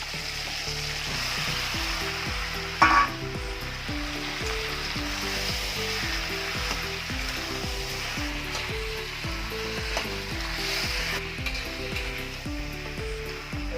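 Taro pieces frying in a pan alongside hilsa fish heads, a steady sizzling hiss heard up close with a brief clatter early on, no voices.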